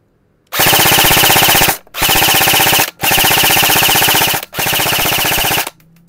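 SLONG NTR Scorpion airsoft gun, 460 FPS out of the box, firing loud close full-auto bursts: four sustained strings of rapid shots, separated by brief pauses.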